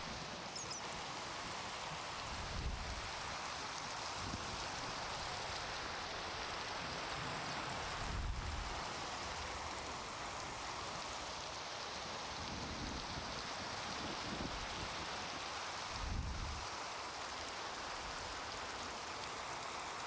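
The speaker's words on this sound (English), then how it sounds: "It would start raining, wouldn't it?" Steady Minecraft rain hiss fills the whole stretch, a dense even patter with a few soft low thumps now and then.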